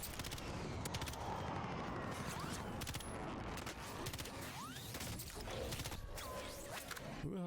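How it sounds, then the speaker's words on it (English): Rapid video-game gunfire crackles in dense bursts and overlapping volleys, with whooshing projectiles streaking past, steady and intense throughout as if the player is under fire. "Who the hell is shooting at me?"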